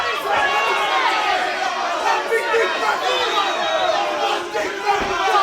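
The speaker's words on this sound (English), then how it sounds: "this fight is nearly over, but the crowd are still in their feet" Crowd at a FURY MMA bout between Rick Selvarajah and Marius Bogdan roars and cheers in a steady, dense wash of voices with no breaks, filling the arena throughout.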